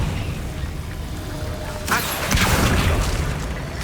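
A Confringo spell explosion in Hogwarts Legacy bursts about halfway through with a crackling blast, then settles into a rumbling, debris-filled tail over a low game background.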